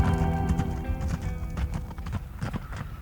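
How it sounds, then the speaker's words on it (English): Hooves of two laden donkeys clip-clop steadily in the wilderness, a close, continuous rhythmic clatter of footfalls with no voices. "I watch two laden donkeys moving off into the wilderness"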